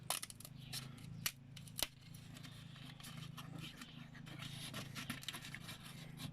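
Quiet, close snips and scraping of scissors cutting a label from a thin wooden camembert box, a few sharp clicks over a soft background hum.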